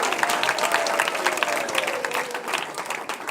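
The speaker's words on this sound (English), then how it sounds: "One more big round of applause" Steady crowd applause fills the hall after a lecture by Bhakti Bringer Govinda Swami, dense clapping continuing evenly throughout, with a faint voice briefly heard beneath it.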